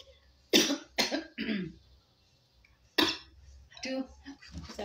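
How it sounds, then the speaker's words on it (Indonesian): Several sharp, harsh coughs in quick bursts, close to the microphone, with short pauses between them. "aduh sampai batuk"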